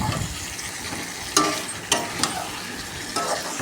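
Food sautés in a pan with a soft, continuous sizzle, while a few sharp scrapes and clanks of the spoon against the metal punctuate the frying.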